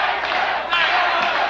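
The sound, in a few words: crowd chanting Jackson's name at a kickboxing fight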